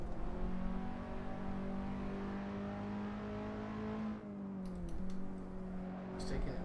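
A Skip Barber race car engine at Brands Hatch GP in a racing video game drones steadily at high revs, then dips as the driver lifts and shifts before climbing again, with faint clicks near the end.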